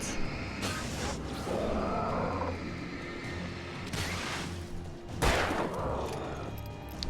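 Rapid bursts of gunfire in the video game Alan Wake crackle in clusters, loud and dense, with sharp louder shots standing out near the end.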